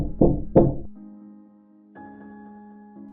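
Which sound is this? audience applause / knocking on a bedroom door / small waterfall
knocking on a bedroom door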